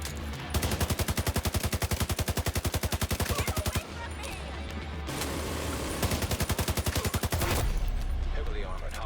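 Player gunfire in the video game The Division 2, two long rapid bursts of automatic fire with evenly spaced, punchy shots, loud and close, separated by a short pause filled with ambient game noise.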